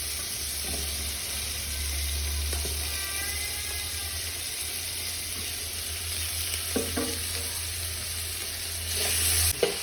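Ginger, garlic and tomato hitting hot oil with softened onions for a Malayalam-style beef curry, a steady close sizzle and fry running throughout, with brief stirring scrapes and no talking.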